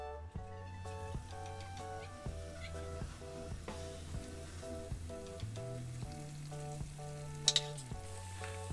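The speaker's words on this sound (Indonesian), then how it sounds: "Oke, langsung aja kita goreng risolnya." Risoles fry in hot oil over medium heat with a soft, continuous sizzle, faint beneath louder steady background music.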